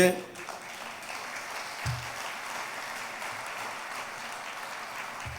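Steady applause from an audience at a church retreat, many hands clapping continuously at moderate volume throughout, with a brief low thump near the start.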